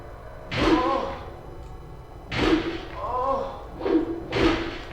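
Kicks landing on a downed enemy in the Silent Hill video game: three or four heavy, dull thuds spaced a second or so apart, fairly close and loud, with a low game ambience beneath.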